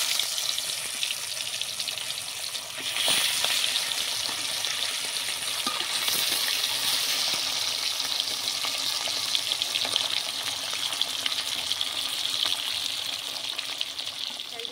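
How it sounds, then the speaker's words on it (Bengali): Hilsa fish pieces frying in oil, a continuous close sizzle that swells slightly after a few seconds and holds steady, with faint occasional clicks. "বাকি মাছগুলো ভেজে নেব।"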